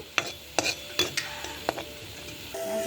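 Fenugreek and chopped shallots fry in a pan while a spoon stirs them, giving about half a dozen scraping clinks against the pan over a soft, steady sizzle, close by and without speech.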